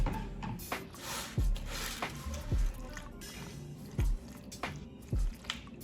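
Thick, sticky mac and cheese squelches wetly as milk is mixed in, heavy squishy thuds recurring every second or so at close range.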